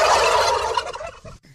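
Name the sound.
turkeys gobbling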